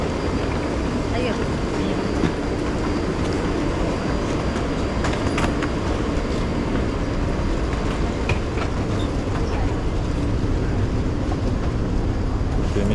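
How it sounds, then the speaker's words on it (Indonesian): Taiwan MRT metro train running, a steady loud rumble of wheels and carriage noise filling the whole stretch with faint clicks, and voices murmuring underneath. "Begini suasana MRT-nya."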